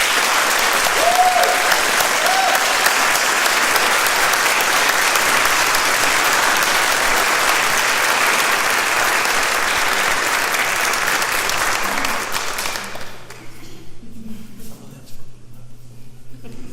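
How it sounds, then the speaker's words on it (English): A room full of people at a city awards event claps in steady sustained applause for about twelve seconds, then it stops abruptly, leaving quiet room noise and faint murmurs. "Let's give her a round of applause."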